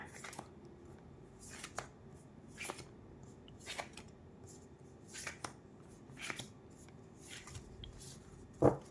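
Tarot cards are shuffled in short, quiet riffles and snaps that repeat at irregular intervals, close and soft against a hushed room, with no talking.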